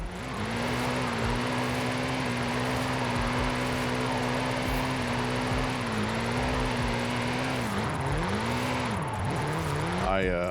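In Forza Horizon 5, a heavy BMW M8 Competition coupe drives downhill on a wet road with a loud, steady engine drone that holds pitch, then dips and rises with gear and throttle changes near the end, while a person talks over it.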